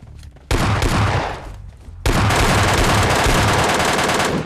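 MK14 rifle fire in PUBG Mobile Lite: a loud rapid burst, a short gap, then a longer sustained barrage of shots filling the second half, close and dense with no talking.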